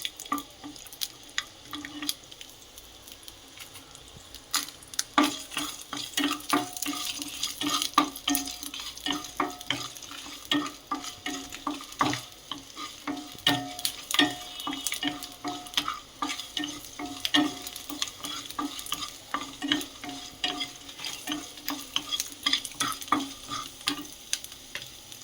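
Ginger sautéing in a pan, with steady sizzling and frequent clinks and scrapes of stirring, plus a brief burst of running water. No one speaks.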